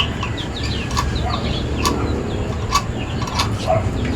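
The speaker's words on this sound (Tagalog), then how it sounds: "Yung manok namin yan. Ano yung pang sabong? Pansabong yan." Fighting roosters and chickens in a Bulacan yard clucking and calling in short scattered bursts over a steady background hum, fairly close, with no talk.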